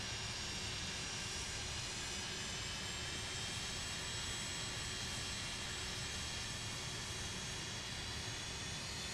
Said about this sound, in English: You guys want to hear those JT8s? I would never do this in real life because it's freezing, but I want you to hear those engines.